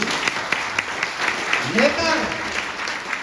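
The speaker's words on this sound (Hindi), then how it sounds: "एक बार जोरदार तालियां" Audience applause rising under a speaker's continuing talk, a dense patter of clapping that is loud and close throughout.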